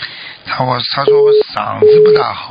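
Two long steady telephone tones sound over a phone line, interrupting someone talking through a thin, band-limited connection.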